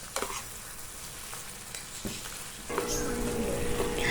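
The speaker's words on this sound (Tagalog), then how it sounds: "kumukulo ng ating tomato paste at yung shrimp natin" Tomato paste and shrimp simmer and sizzle in a pan, a steady close bubbling hiss with a few stirring knocks, growing louder partway through.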